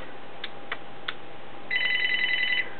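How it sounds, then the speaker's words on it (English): A telephone rings indoors, a steady electronic trill lasting about a second, after a few faint clicks, alone over a quiet background hiss. "There's that phone again."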